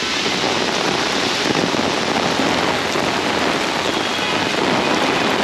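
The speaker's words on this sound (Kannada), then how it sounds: "ಸೊ ಮಳೆಗೆ ಬಂದರೆ ಹಿಂಗೆ ಬರ್ತೈತೆ ನೋಡ್ರಿ ಬೆಂಗಳೂರ್ದಾಗ" Heavy rain pours steadily onto a Bengaluru street, a dense, loud and continuous hiss of water hitting the surfaces with no pauses and no voices.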